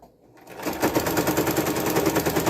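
A sewing machine back-stitches a seam on a drawstring make-up bag, starting from quiet and quickly settling into a fast, close, rhythmic rattle.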